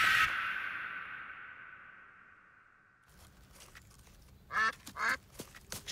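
A few short nasal cartoon duck quacks near the end, after a fading ringing tone and a quiet pause.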